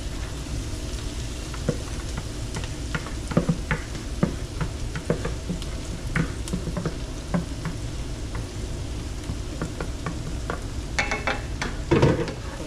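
Mushrooms frying in a pot for sandbar chicken give off a steady, even sizzle while a spoon stirs them, with scattered light scrapes and taps and a louder stir near the end.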